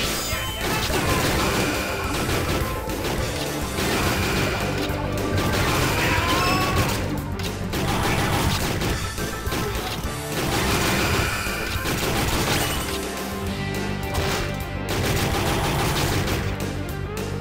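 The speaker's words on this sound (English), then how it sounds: "I'm shooting too far off the right hand side of the screen." Machine gun fire in a shooter game, dense continuous bursts of shots layered with crashes and impacts, loud and sustained throughout with brief lulls, no voices.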